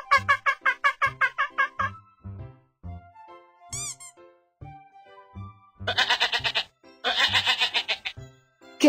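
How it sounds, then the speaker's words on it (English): A goat bleats in two bursts of rapid, wavering, nasal cries, the first near the start and the second later on, with scattered short voiced sounds in between. "Goat."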